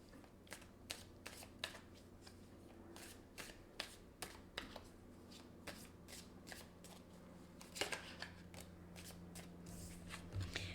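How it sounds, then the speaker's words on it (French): An Arrows of Love oracle deck is shuffled and handled. Crisp, rhythmic card flicks and riffles repeat every half second or so, close and fairly quiet, with a slightly heavier shuffle near the end. "je vais prendre une carte Arrows of Love"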